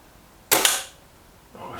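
A Reximex Zone air rifle fires once at small garden targets with a single sharp, close crack that decays quickly, followed about a second later by a fainter short impact or handling sound.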